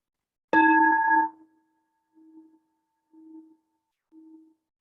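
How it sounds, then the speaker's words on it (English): A meditation bell is struck once, ringing loud and clear with a bright sustained tone before decaying, then its low hum pulses faintly three more times as it fades away in near silence. "So I'll ring the bell here"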